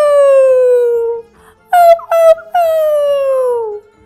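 A cartoon dog cries and howls: a long falling wail, then two short high yelps, then another drawn-out wail that trails off, loud and alone.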